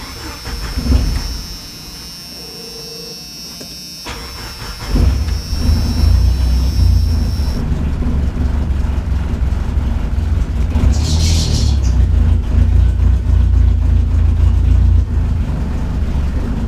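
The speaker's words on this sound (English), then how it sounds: "Got a little bit better of an idle." A 1987 Jeep Comanche engine starts up around a few seconds in and settles into a loud, steady close-up idle with a deep low drone, after quieter background hum beforehand.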